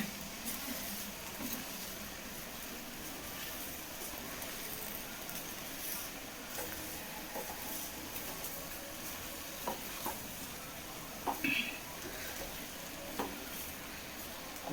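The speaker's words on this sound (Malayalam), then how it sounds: "അപ്പം അതൊന്ന് നന്നായിട്ട് ഇളക്കി മിക്സ് ചെയ്തെടുക്കട്ടെ" An onion and egg mixture is stirred in a bowl: soft, continuous scraping and swishing at close range, with a few sharper clinks toward the end.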